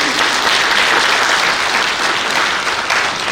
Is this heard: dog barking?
no